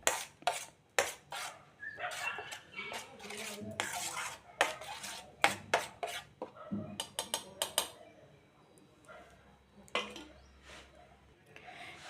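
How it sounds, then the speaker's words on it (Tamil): Oil being mixed into green masala for a fish fry, heard as a spoon clinking and scraping against a bowl in irregular bursts with pauses, close and fairly loud. "நல்லா நம்ம கலந்து விட்டுறலாம்."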